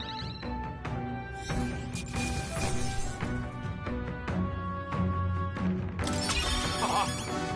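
A gauntlet runner mount in the video game Metaphor: ReFantazio lets out whinnying neighs over layered game music and clattering impacts, with hoof-like clops, crashes and some voice underneath.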